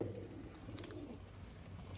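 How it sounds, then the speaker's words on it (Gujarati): Pigeons at a new harbour in Bhavnagar cooing faintly in low, soft murmurs over a steady background hum. "આ તો અમારા ફ્રેન્ડના કબૂતર છે"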